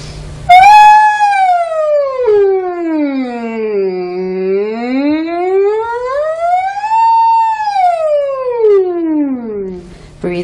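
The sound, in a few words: voice imitating a siren in warm-up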